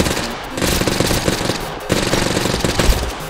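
Gunfire from an automatic weapon in the video game TABG, loud, rapid continuous bursts with a short pause between two long volleys.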